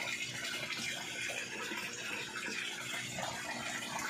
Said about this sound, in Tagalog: So ayan yung agos, kitang-kita nyo naman, malakas.